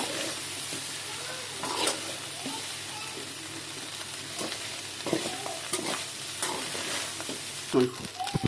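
Egg chicken fried rice being stirred in a pan over high heat, with steady sizzling broken by repeated scraping and clanking strokes of the spatula, close and fairly loud, with no talking.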